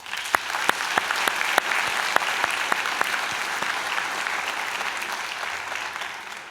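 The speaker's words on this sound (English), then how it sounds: "So graduates, how about also giving a round of applause to everyone who helped get you to this important moment in your lives." A graduation convocation audience claps steadily and densely for several seconds, the applause filling the hall at an even level before slowly thinning out.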